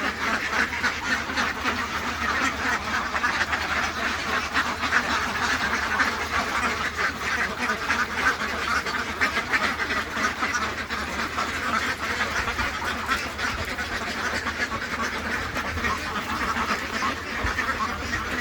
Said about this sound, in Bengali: একটু দেখাই হাঁসগুলো কত সুন্দর খাচ্ছে আর কি।